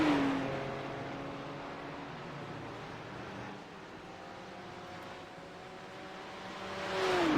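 A BMW GT3 race car at Daytona, its engine note sustained with tonal harmonics and rising into a louder high-revving pull near the end.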